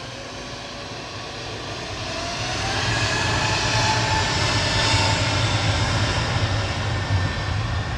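An EasyJet Airbus A320neo departs Manchester Airport on its way to Faro, its engines a steady broadband roar that builds after a few seconds and stays loud and sustained.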